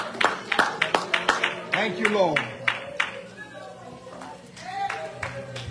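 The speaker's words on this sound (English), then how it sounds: "Give God a hand clap." Congregation clapping in church during a Sunday service: a run of sharp, rhythmic hand claps, moderately loud, mixed with a preacher's voice talking and praising over them.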